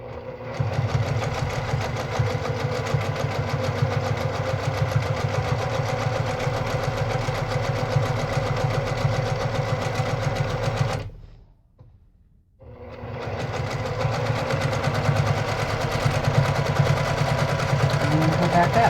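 A Brother PQ1500SL straight-stitch sewing machine running steadily during free-motion quilting of wavy lines, a close, even mechanical whir that stops briefly for about a second before resuming at the same pace.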